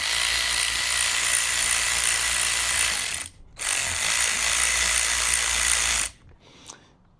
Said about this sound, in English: the electric ratchet is probably the greatest invention ever